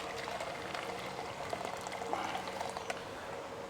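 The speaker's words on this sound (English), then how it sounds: "I've pre-boiled the water. So I'm going to pour some water into here." Pre-boiled water pours into the boiler of a model steam engine as a steady, soft, hissing trickle with faint bubbling, close but quiet, with no speech.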